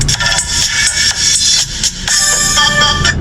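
Audio driver unit fitted with a CBB film capacitor (155J, 1.5 µF, 630 V) playing music, bright treble-heavy sound with rhythmic pulses, steady and fairly loud with no talking.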